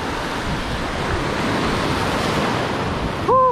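Steady roar of low ocean waves washing onto a shore on a windy morning, a continuous broadband wash of surf with wind noise, ending with a brief tonal whistle-like sound.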